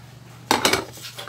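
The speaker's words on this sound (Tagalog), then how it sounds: "Tapos, tatakpan ulit natin siya." A metal lid goes back onto a cooking pan over meat, a single close clank followed by a short rattle as it settles, over a low background hum.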